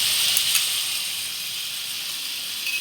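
Potatoes frying in hot oil for a Bengali prawn and banana-flower ghonto, a close, steady high sizzle and hiss that holds evenly with no talk.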